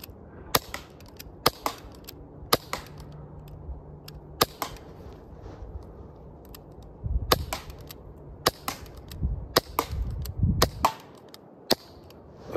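Umarex Glock 19 Gen 3 BB pistol plinking at targets, with sharp isolated snapping shots spaced a second or so apart, some followed by faint metallic target pings, outdoors with little else.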